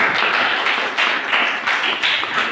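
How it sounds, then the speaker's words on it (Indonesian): Classroom applause from a group of students during a vocational school field practice session, a short burst of dense clapping that swells and dips in several waves, fairly close and filling the room. "Dan lagi kita berikan tepuk tangan"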